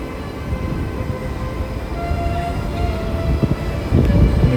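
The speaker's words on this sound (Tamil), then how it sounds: "இது வந்து லைட் ரயில்." A light rail train in Sydney rumbles past at a busy station, a steady low mechanical drone that swells slightly and ends with a few louder clunks and thumps.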